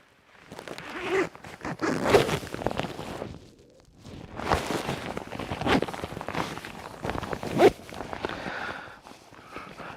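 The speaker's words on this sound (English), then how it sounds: "So a good jacket is going to zip up nice and high" A jacket zipper drawn up high to the hood, several quick rasping zips in bursts with brief pauses, close and clear with no talk over it.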